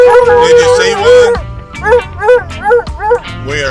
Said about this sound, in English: We are fishing with the dogs.